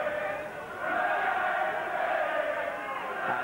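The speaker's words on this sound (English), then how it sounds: "this crowd now singing its encouragement to Andries" A boxing crowd at Hammersmith, London sings encouragement to Dennis Andries during his 1991 fight with Jeff Harding, a steady, massed chant filling the arena, loud and continuous from start to finish.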